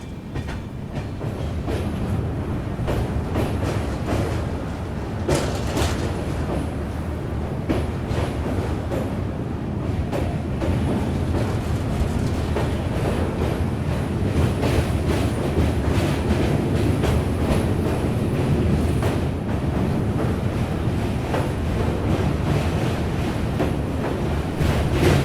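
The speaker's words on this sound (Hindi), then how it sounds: "अपनी ट्रेन निकल चुकी है दरभंगा जंक्शन से" The Bihar Sampark Kranti train runs on its rails, a continuous loud rumble with rhythmic clickety-clack wheel beats and rattling carriages sustained throughout, with no voices.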